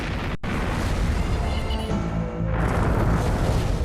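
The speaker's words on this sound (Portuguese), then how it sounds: "Será que a explosão de um tanque de combustível seria capaz de derrubar um avião?" A sustained, roaring aircraft fuel tank explosion test rumbles loudly and continuously, with a sharp crack near the start and the blast surging again toward the end.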